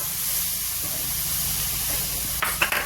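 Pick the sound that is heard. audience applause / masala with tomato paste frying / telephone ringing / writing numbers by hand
masala with tomato paste frying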